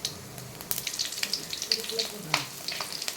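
Whole fennel seeds, cloves, a cinnamon stick and a bay leaf sizzle in hot oil in a pan for mint rice, crackling steadily and fairly close, with a few sharper pops in the middle.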